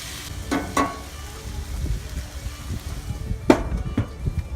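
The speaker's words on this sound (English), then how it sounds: "Let those fry for a few minutes" Onions frying in a pan for Hoosier stew, a soft steady sizzle with a few sharp clinks of a utensil against the pan, close and moderately quiet.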